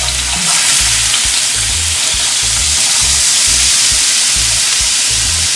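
Onions sizzle and fry steadily in a hot pan for chicken curry, a loud, constant crackling hiss with a low rhythmic rumble underneath and no voices.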